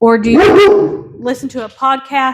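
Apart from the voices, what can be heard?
dog barking at someone walking by the house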